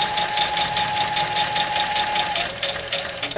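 A sewing machine stitching a quilt border, a continuous rapid mechanical chatter at steady speed, close and moderately loud, slowing slightly near the end.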